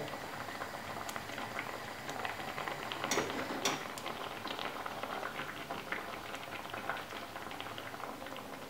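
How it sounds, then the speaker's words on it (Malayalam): Steady bubbling and gentle popping of a thick ground coconut paste for pineapple pulissery boiling in a pot, continuous and close, with occasional sharper ticks and no voices. "അരപ്പ് തിളച്ചിട്ടുണ്ട്."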